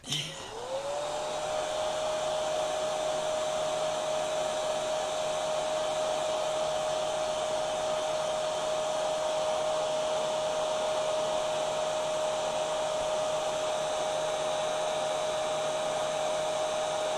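A hair dryer runs steadily and loudly throughout, a continuous blowing whine aimed at wet paint to dry it, with no speech over it.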